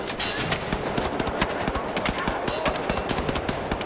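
Rapid automatic gunfire fired from the hip in the shooter Wolfenstein: The New Order, a dense, loud string of shots lasting throughout with no pause, close and sustained.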